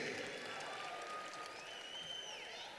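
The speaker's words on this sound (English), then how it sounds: "can we please give a round of applause to the best principal?" A crowd applauds for the principal at a high school graduation ceremony, a steady wash of clapping with faint whistles or cheers rising above it. A voice speaks over the applause.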